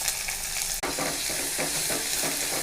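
Paste and coriander go into hot oil in a pan for curd rice, setting off a loud, close, steady sizzle with rhythmic stirring scrapes and two brief breaks, and no voices.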